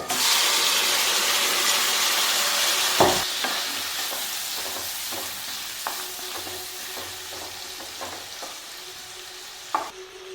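Chicken and spices fry in a pan with a bright, continuous sizzle, broken up by repeated scraping and clattering stirring strokes close by.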